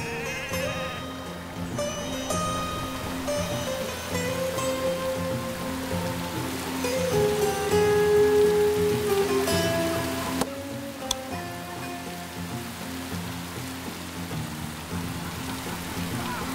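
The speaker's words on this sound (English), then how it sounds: "The rainy season has set in." Steady rain pattering in The Settlers: The Eastern Realm, a continuous soft hiss under game ambience, with sheep bleating and melodic tones rising in the middle.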